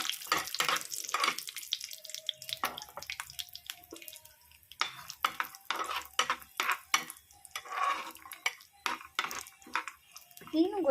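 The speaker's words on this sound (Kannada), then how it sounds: "ಇಷ್ಟು ಹಾಕಿ ಇದನ್ನು ಚೆನ್ನಾಗಿ ಫ್ರೈ ಮಾಡ್ಕೊಳ್ಳೋಣ" Vegetables being fried and stirred in a pan give intermittent scraping and clattering strokes in an irregular rhythm, with light sizzle and a few short tonal clinks between them.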